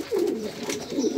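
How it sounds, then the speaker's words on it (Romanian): Pigeons coo close by while being fed their morning meal, two soft, low throaty calls in quick succession. "Am adus masă de dimineață porumbeilor"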